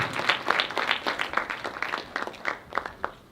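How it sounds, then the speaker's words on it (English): Clapping from an audience at a women's excellence awards ceremony, a few people applauding a winner in an uneven patter, fairly faint and fading after a few seconds. "Give her a big round of applause,"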